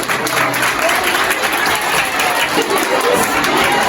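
Pupils and spectators at a school quiz competition in a lycée applaud after a class representative introduces herself, producing steady, dense clapping at full volume with no voices over it.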